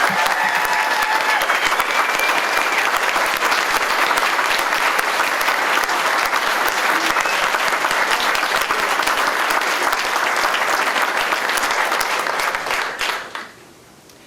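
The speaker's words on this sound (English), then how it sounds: "If we can just give one more round of applause to our fabulous AP students." An audience at a school district board meeting applauds AP students with steady, full clapping for about thirteen seconds, then the applause quickly fades out.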